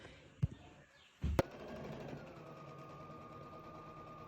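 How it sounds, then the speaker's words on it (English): A sewing machine running a stitch along the edge of a Christmas stocking, starting after a couple of sharp knocks and then humming steadily and quietly at close range. "We're only going to sew from this side all the way around to the other side."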